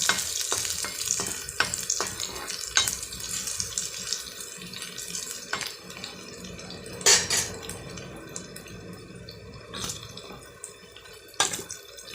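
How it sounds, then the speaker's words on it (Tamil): Onions frying with garlic and fresh turmeric for a side dish, giving a steady hissing sizzle close by, broken by occasional spoon clatters and scrapes against the pan, with no one talking. "இப்போ நம்மளுடைய வெங்காயம் நல்லா பொரிஞ்சு வந்துடுச்சு"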